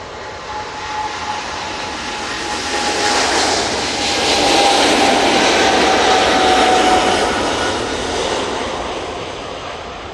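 An airliner taking off at Manchester Airport gives a loud, broad engine roar that builds to a peak mid-way and then eases slightly, with a thin whine running through it.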